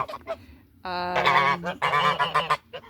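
Several geese honk loudly and close by in spring mating season, a long harsh burst followed by a second chattering run of calls, with shorter honks before and after.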